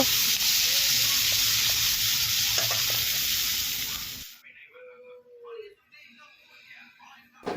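Loud frying sizzle of onion, green chilies and bay leaves in oil, with stirring, fills the first half, then cuts off, leaving quiet room sound and a few faint voices.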